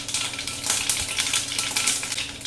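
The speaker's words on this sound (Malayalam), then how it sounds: "എണ്ണ ചൂടായി കഴിഞ്ഞ് കടുകിടുക." Mustard seeds fry in hot oil in a kadai with a dense, crackling sizzle and scattered sharp pops, steady and close throughout.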